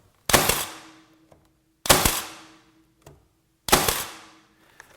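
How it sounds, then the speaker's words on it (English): Three sharp, loud shots from a Senco F18 Fusion cordless brad nailer, evenly spaced about one and a half seconds apart, each a crisp bang with a short ringing tail and silence between. "here's how Senco's F18 Fusion works"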